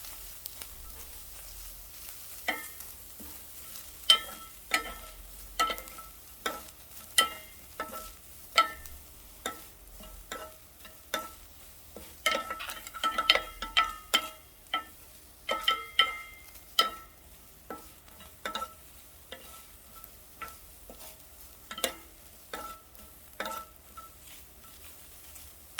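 Amaranth greens being stir-fried in a pan, with irregular scraping and stirring clicks and soft sizzling. The sound comes close and fairly quiet, with no voice over it.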